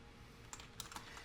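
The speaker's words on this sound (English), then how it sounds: "I'm typing into the chat" Typing on a computer keyboard, a few soft scattered key clicks at close range over a faint steady background hum.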